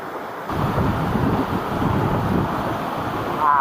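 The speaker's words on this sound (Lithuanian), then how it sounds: "Iš to tuneliuko vat vanduo atiteka." Steady, full rushing of cold mountain-river water pouring out of a small tunnel in Croatia, close and continuous, with a slight swell in loudness toward the end.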